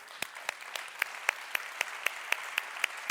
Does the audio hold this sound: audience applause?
yes